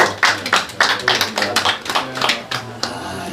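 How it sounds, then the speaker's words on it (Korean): A small group claps in uneven bursts, a dozen or so sharp claps scattered over a few seconds, fading out toward the end. "박수"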